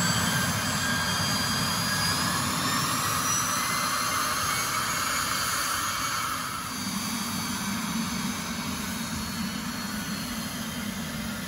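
Pilatus PC-24 jet engines whining steadily while the aircraft taxis, a loud continuous roar with a high tonal whine and a slight dip in level partway through.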